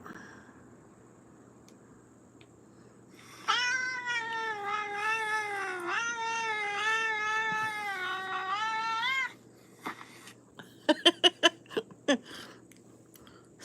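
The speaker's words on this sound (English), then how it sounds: "the kitty cat." A cat meows in one long, loud, drawn-out wail for several seconds, harmonic and wavering, followed by a few sharp clicks; no one speaks.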